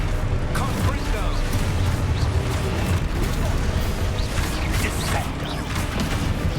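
Fire spell Confringo cast in the video game Hogwarts Legacy, a burst lost in a dense, loud wash of combat effects that runs steadily through the whole stretch.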